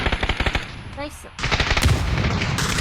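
Rapid bursts of automatic gunfire from a PUBG Battlegrounds match, loud and close, broken by a brief lull before sustained firing resumes; a voice talks faintly underneath.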